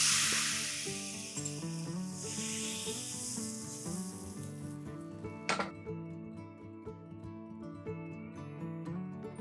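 Spring roll batter hits a hot pan and sizzles steadily, a broad hissing wash that slowly fades while light background music plays underneath, with a brief sharp clatter partway through.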